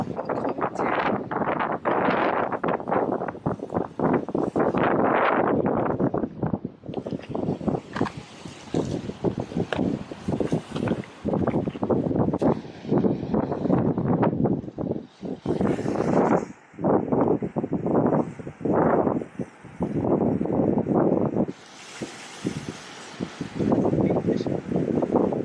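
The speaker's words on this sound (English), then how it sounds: "I don't know if you can hear me because of the wind" Strong wind roars and buffets the microphone at a high coastal lookout near Agnes Water, Queensland, a continuous loud rush with gusty swells throughout and faint talk underneath.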